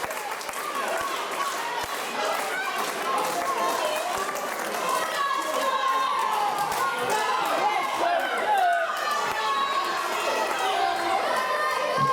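Wrestling crowd in Lincoln at a Fight Factory show, a dense constant roar of shouting and jeering. Overlapping voices and sporadic claps keep it busy from start to finish.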